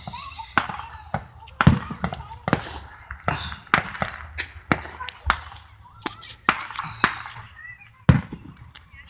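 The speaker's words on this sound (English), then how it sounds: "Freaking fireworks." Fourth of July fireworks burst in a scattered run of sharp, loud bangs. Some land close and some further off, with irregular gaps between them.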